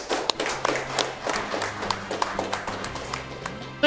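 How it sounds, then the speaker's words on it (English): A room audience at the RPG Limit Break 2024 charity speedrun event gives scattered, uneven applause, many hands tapping in quick succession at moderate loudness for a few seconds. "Let's get some claps out, guys."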